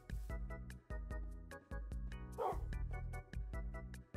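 Dogs barking in the Minecraft survival game: rapid, repeated yips and barks in a steady rhythm, loud and close, with a brief rustling burst midway and no talk.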